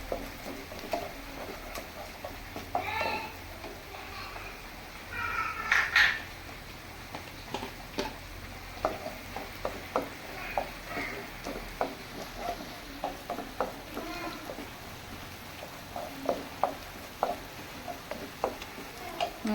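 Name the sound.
sautéing green chillies in a pan for beef biryani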